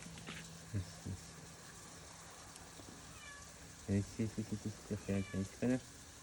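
A pet cat meows in a run of short, close calls, two early cries and then a quick burst of about eight meows, over a steady low hum in a home.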